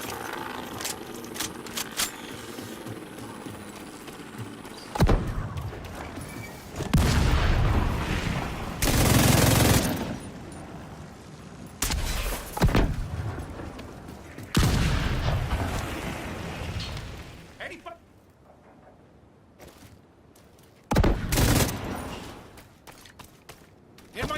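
Heavy gunfire and launcher blasts from The Division 2 shooter game crash in loud, repeated bursts and booms, separated by short lulls, with voices in between.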